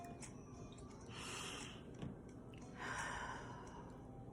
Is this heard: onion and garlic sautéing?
no